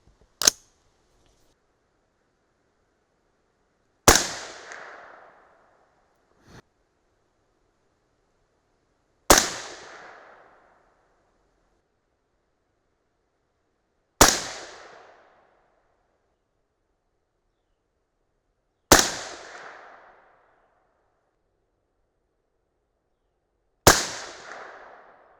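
Rifle shots from a .223 Remington firing 62-grain Speer Gold Dot loads, six loud, sharp reports spaced about five seconds apart, each with a short decaying echo, plus one small faint pop between the second and third.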